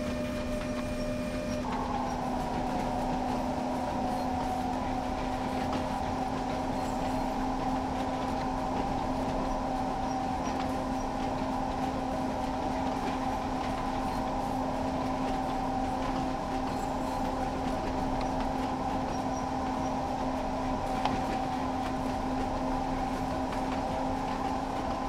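A long train rolls steadily along the track in a railway simulator set on the Ruhr-Sieg-Nord line, with a constant engine drone, a sustained tonal hum and faint rail clatter filling the whole stretch with no talk.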